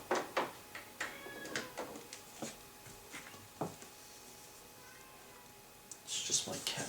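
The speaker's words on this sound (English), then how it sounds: "It's just my cats now meowing" House cats meowing repeatedly indoors, short faint calls scattered through the scene with a person speaking softly around them.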